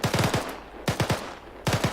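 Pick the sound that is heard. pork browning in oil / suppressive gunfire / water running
suppressive gunfire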